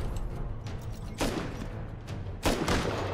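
Turret gunfire in the survival video game Rust, two sharp bursts of rapid shots about a second apart over a low rumbling background, moderately distant.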